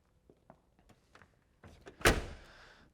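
The long, heavy door of a 1988 Pontiac Trans Am GTA swings shut with a single solid slam near the end, preceded by a few small latch and handle clicks, close and otherwise quiet.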